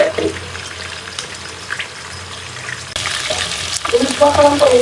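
Onions and fenugreek seeds frying in a pan for a Bengali hilsa fish and pointed gourd dish, a steady low sizzle with stirring scrapes that grows brighter and louder toward the end.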